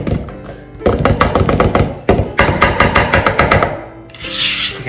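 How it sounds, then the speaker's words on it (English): A whisk beats mayonnaise into mashed egg yolks in a bowl for deviled eggs, making quick, close, loud rhythmic clicking and scraping strokes, with a brief softer rustle at the end. "We'll have to work our whisk."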